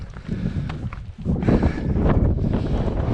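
Strong wind buffets the microphone on a steep scramble up Scafell Pike in the Lake District, a steady low roaring rush that swells louder halfway through and holds at a loud, unbroken level.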